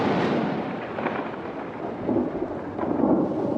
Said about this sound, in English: The storms in Kakadu are some of the largest on Earth.